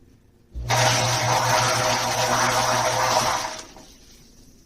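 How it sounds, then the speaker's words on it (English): A Frigidaire Gallery Professional series dishwasher bursts into a steady rushing spray of water that runs for about three seconds and then cuts off, fading into a quiet hum. "show you when it's spraying the water how this propeller works"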